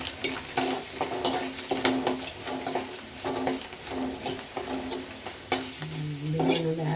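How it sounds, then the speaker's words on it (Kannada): Garlic fries in oil for chitranna, a close bubbling sizzle punctuated by repeated clinks and scrapes of a stirring spoon against the pan, fairly loud and continuous. "ಈಗ ಬೆಳ್ಳುಳ್ಳಿ ಹಾಕಿ, ಇದು ಸ್ವಲ್ಪ ಕುದಿಯುತ್ತೆ."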